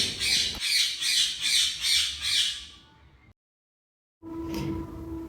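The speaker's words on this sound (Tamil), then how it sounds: "அங்கே பால்கனி சைடு வர கிளிங்களுடைய சத்தத்தை கேட்டுக்கிட்டே என்ன ஆனந்தம்" Parrots near a balcony squawk loudly in a steady series of about six harsh, rhythmic cries that fade out, followed by a brief silence and then a duller background sound.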